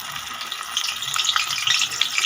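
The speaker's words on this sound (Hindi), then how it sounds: "जैसे ही घी गर्म हो जाए तो आप इसको इस तरीके से फ्राई कर लें" A katori chaat basket fries in hot ghee inside a steel pot, giving a steady, close crackling sizzle with bubbling pops that grows slightly busier toward the end, with no voices over it.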